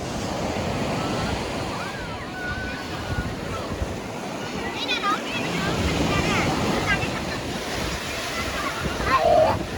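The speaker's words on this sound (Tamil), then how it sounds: "ஏன் நம்ம எந்த பீச்சில் இருக்கோம்? என்ன பீச் இது? கடலூர் பீச்சா? Silver beach" Ocean surf at Silver Beach in Devanampattinam, Cuddalore, a steady wash of breaking waves and wind buffeting the microphone for about ten seconds, with voices faintly in the background.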